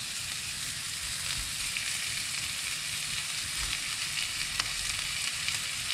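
Sausage sizzling in a hot pan while stir-fried basil noodles are being made, a steady close crackle and hiss with faint occasional pops and no voices.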